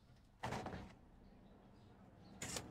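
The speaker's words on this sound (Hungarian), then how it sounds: "kinyitom az ajtót" A shop door swinging open in the Supermarket Simulator game, two short clunks with a brief rattle, one near the start and another at the end, over a quiet in-game background hum.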